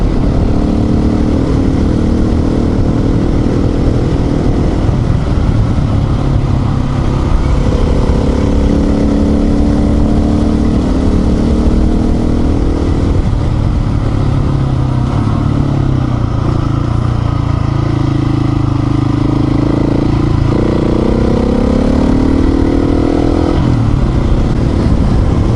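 Husqvarna motorcycle engine droning steadily on dirt roads during an offroad adventure, loud and close throughout, with shifting revs, gear changes and continuous wind rumble.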